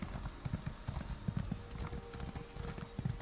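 Horse hooves clip-clop in the Elsweyr video game, a quick steady rhythmic trot of muffled thuds, close and moderately loud over faint ambience.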